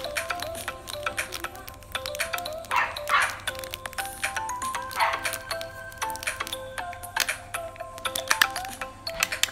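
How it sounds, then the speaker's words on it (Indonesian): Four dogs at a home barking nonstop, with a rapid, overlapping stream of close barks and yips throughout, over a steady low background hum. "Terus di sini ada anjing juga, anjingnya 4. Dia menggonggong terus, nggak bisa diem dia"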